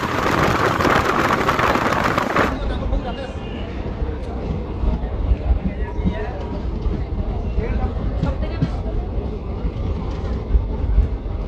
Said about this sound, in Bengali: আর তমলুক স্টেশনের 2 নম্বর প্ল্যাটফর্ম থেকে আমাদের ট্রেন ছেড়ে দিল।